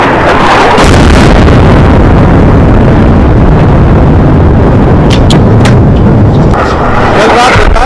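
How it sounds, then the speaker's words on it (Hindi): Repeated missile strikes hit Beirut at night, a continuous loud roaring rumble of blasts and their echoes filling the whole stretch, with a few sharper pops rising near the end. "रात में एक के बाद एक कई मिसाइलें दागे गई"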